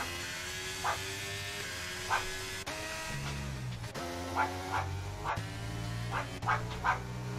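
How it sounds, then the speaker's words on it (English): A dog named Tiger barks in short, sharp yaps repeated across several seconds, fairly near, over a constant mechanical engine-like hum from a racing game in the background. "Tiger, do you have to bark?"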